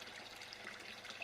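Water runs steadily through a homemade Bakki shower filter, a quiet, continuous trickle and splash with no voices.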